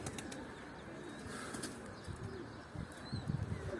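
A tumbler pigeon shuffles and flaps nearby with soft rustling and low murmurs, a few faint chirps in the background.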